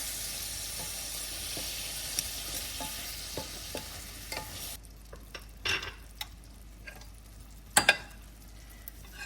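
Shrimp sizzle steadily in a hot pan for shrimp scampi, a broad frying hiss that drops sharply partway through, leaving quieter crackles and a few utensil knocks near the end.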